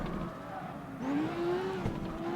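A Lamborghini in the CarX Street racing game accelerates, its engine note climbing steadily in pitch into a sustained high drone, fairly loud and without voices.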